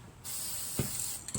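A spray paint can hisses onto the bumper of a Toro Wheel Horse 616Z zero-turn lawnmower in one long close burst, followed by two short sputtering puffs.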